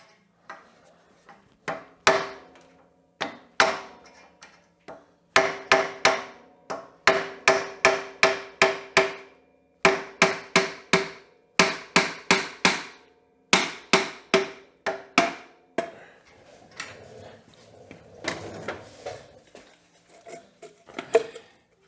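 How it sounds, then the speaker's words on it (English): Metal hammer blows strike rusty parts on a Yamaha Big Bear ATV, sharp loud impacts arriving in quick bursts of several hits separated by short pauses. "Should have got a bigger hammer."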